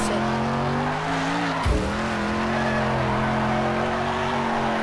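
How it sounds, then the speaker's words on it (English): A car drifts in the racing video game Next Car Game, its engine droning loudly and steadily. A short tire squeal or skid bursts out partway through. "We can like drift up this thing."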